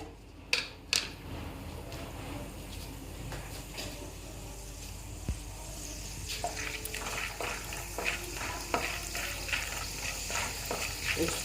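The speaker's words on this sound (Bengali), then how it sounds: "আমি তেল দিয়ে শুকনো লঙ্কা দিয়ে দিয়েছি এবার দিচ্ছি ছোলার ডাল" Chana dal and dried red chilies fry in hot oil, giving a steady soft sizzle with occasional stirring scrapes and a couple of sharp clinks near the start, fairly faint and with no talking.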